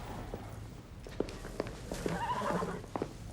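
Horse stable scene with a thoroughbred nearby: a few sharp hoof knocks and snorting or whinny-like cries stand out over a steady low background hum, fairly close.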